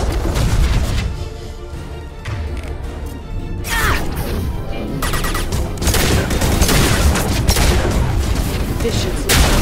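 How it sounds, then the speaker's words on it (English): Intense gunfire in Mass Effect 2 rattles on through a chaotic firefight, with repeated sharp shots and crashing impacts layered under brief speech and battle noise. "Firing a high-impact shot."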